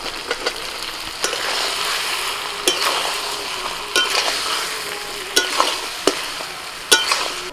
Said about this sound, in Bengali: ভাজা আলুটা দিয়ে আরো 2 মিনিট কষিয়ে নেব।